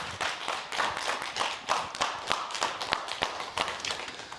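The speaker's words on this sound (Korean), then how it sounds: "박수 주십시오" Studio audience applauding on a Korean broadcast health talk show, a dense, steady crackle of many hands clapping that holds at an even level for several seconds without speech.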